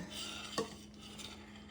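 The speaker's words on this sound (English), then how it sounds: "I always stir mine because I don't want it to stick to the bottom of the pot" A spoon stirs a boiling no-bake cookie mixture in a pot, one sharp scrape against the metal amid a faint bubbling hum, quiet and brief.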